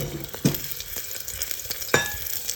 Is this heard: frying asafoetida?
yes